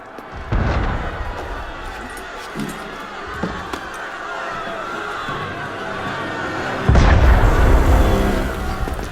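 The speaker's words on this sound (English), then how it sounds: "That was cannon fire." Two heavy booming cannon blasts in Assassin's Creed Unity, one early and a louder one near the end, over a busy background of distant rumble and crowd noise.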